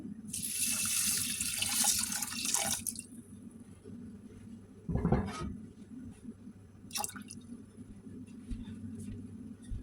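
A kitchen tap runs water into a pot for Norwegian rice porridge, a bright rushing hiss for about three seconds, then a few short splashes and clinks over low background hum.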